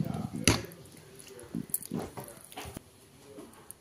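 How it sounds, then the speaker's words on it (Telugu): Shredded boiled cabbage is stirred into a raita, giving soft, wet squishing and scraping sounds in irregular bursts close by, mixed with some spoon knocks against the bowl. "క్యాబేజీ తరుగు వేసుకొని మిక్స్ చేసుకోవాలి."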